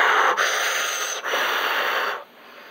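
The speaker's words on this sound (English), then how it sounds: "I'm out of breath." Heavy, loud breathing after running out of breath, close to the microphone, with a few long rushing breaths separated by brief pauses and then quieter breathing at the end.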